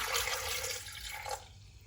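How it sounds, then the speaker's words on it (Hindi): A glass of water is poured into a cooking pot, a steady close splashing gush that stops abruptly near the end, heard alone with no talking. "ये 1 गिलास भर के हम पानी का डाल देंगे"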